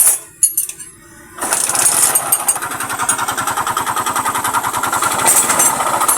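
A motorcycle engine with connecting rod knock starts after a few clicks and idles roughly, with a steady, rapid knocking tapping through the running engine, close up.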